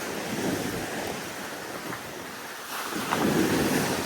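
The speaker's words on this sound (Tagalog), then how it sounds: "Maalon." Ocean waves at a sandy beachfront lot, a continuous rushing surf with gusty wind noise on the microphone, swelling louder near the end.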